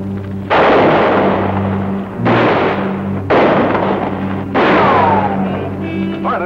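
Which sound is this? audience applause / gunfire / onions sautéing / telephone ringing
gunfire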